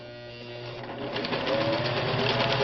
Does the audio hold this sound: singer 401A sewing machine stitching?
yes